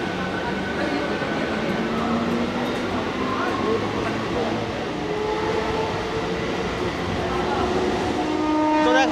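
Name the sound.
Howrah to Digha local train running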